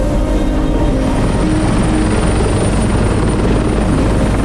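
A helicopter sounds loud and close, its steady rotor thump and turbine whine filling the whole stretch without any voices.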